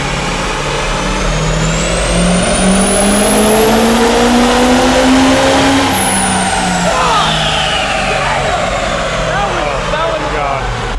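Ford 6.0 Powerstroke diesel truck engine built to about 1000 hp, held at a long loud roaring pull on a dyno, pitch climbing steadily, peaking near the middle with a high turbo whine, then falling away as it winds down.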